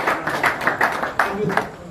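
An audience claps at a gathering at a Buddhist vihara during a ten-day novice monk camp, several short bursts of hand claps rising and falling over a couple of seconds, close and moderately loud.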